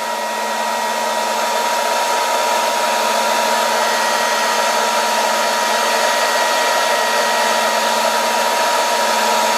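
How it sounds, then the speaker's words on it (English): A steady, loud blast of air, like a hair dryer, blows continuously onto a Eurorack oscillator module faceplate, with a constant whooshing roar and a faint tonal hum beneath it. "the air is basically blasting onto the faceplate and probably going through the jack socket"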